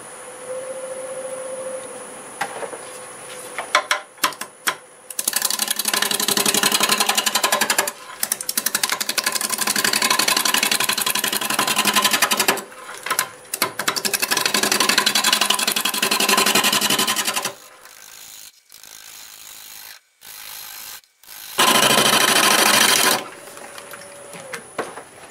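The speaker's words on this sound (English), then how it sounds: "I'm going to start with the spindle roughing gouge. It's 1 1/4 inch. Doing about 700 RPM" Wood lathe spinning mimosa wood at about 700 RPM while a 1 1/4 inch spindle roughing gouge cuts it, giving loud sustained rough cutting noise in several long bursts separated by brief pauses.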